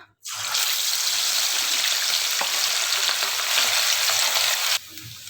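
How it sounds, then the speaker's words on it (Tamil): Loud, steady sizzling of prawns frying in hot oil, a dense crackling hiss that runs unbroken for several seconds before cutting off abruptly. "எண்ணெய் நல்லா சூடாயிடுச்சு. இதை நம்ம பொரிச்சு எடுத்துக்கிறோம் இறாலை."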